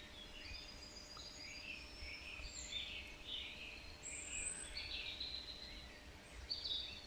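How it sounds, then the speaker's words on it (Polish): Birds chirp and sing in a forest on a May morning in scattered high-pitched phrases over a quiet, airy background, with no one talking. "Posłuchajcie jak śpiewają ptaki."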